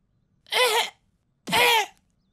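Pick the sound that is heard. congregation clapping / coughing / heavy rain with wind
coughing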